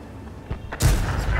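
A tank gun fires once in World of Tanks, a sudden loud boom with a thudding low-end blast that rings on after a few softer thumps, heard alone.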